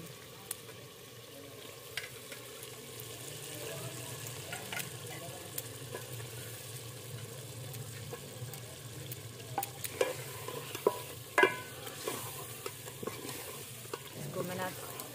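Meat frying in spiced oil in a hot pan, a steady crackle with occasional sharper pops and scrapes of stirring.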